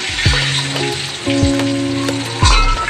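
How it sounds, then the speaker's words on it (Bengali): Eggplant pieces frying in a pan with loud continuous sizzling, punctuated by a few clanking strikes and scrapes of a utensil against the pan, close and without talk. "বেগুন ভেজে নিচ্ছি"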